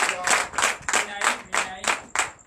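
A church congregation claps in acclamation in a steady rhythmic beat, about ten evenly spaced sharp claps in unison, close and lively, with faint voices underneath.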